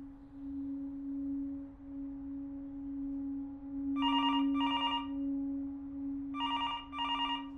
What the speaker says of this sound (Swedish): Dagen efter mordet ringer det på Malmöpolisens telefon.